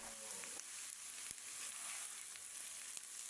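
Chopped ash gourd sizzles steadily in hot oil with cumin seeds, a close, continuous crackling hiss with a few faint clicks throughout.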